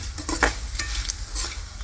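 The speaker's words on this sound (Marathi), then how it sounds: "ही मिरची लसूण कांदा खोबरं आणि हे वजवर भाजायला टाकेल" Chili, garlic, onion and coconut roast on a hot griddle, giving a soft sizzle with several scraping stirs and clinks of a utensil, close and moderately quiet, with no talk.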